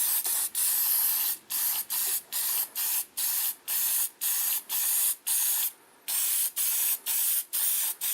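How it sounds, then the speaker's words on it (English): A spray can of disc brake quiet coats brake pads from a 2004 Mazda 6 rear brake job in a rapid series of about fifteen short hissing bursts, each cut by brief gaps, close and steady. "spray our brake pads with some disc brake quiet."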